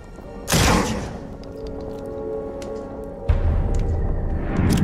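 A single sharp gunshot in Mutant Year Zero: Road to Eden during a flanking move, a loud crack that decays into a lingering tail, then a second heavy thump a few seconds later over a low ambient bed.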